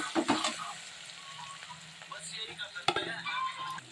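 A spice paste of ground cumin, turmeric and pepper powder fries in a pan for a meat curry, making a soft, steady sizzle with occasional scraping stirs and clinks.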